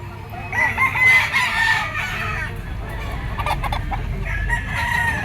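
A yellow-legged stag rooster, a young gamefowl at a pet market, crows loudly and clucks in repeated bursts against a busy crowd background.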